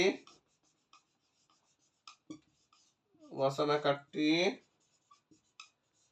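A pen scratches and taps on paper in short, faint strokes scattered through the clip, while someone speaks briefly in the middle.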